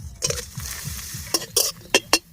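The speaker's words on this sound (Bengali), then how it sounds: "পাপড়টা ভেজে নিচ্ছি।" Hot oil sizzling as papad fries, with stirring scrapes and a few sharp clinks of a utensil against the pan.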